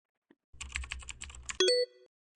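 A quick burst of keystrokes on a computer keyboard, about a dozen close, light taps in under a second, is followed by a short bright chime. The sound is alone in an otherwise quiet room.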